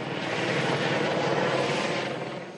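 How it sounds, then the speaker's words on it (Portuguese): Helicopters arrive at a base set up to recover bodies, their steady broadband rotor and engine roar loud and continuous throughout, with no voices. "No local onde foi montada uma base para recolher os corpos encontrados, a toda hora chegavam helicópteros"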